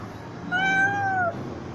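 A cat eating a beef stick lets out a single drawn-out meow, clear and close, over a quiet background.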